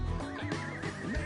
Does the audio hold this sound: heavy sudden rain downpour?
no